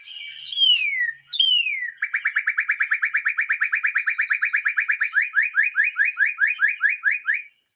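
A recorded male northern cardinal sings a whistle-like song: two clear downslurred whistles, then a long run of rapid repeated chip-like notes that slow into distinct sweeping phrases, loud and close with no background noise.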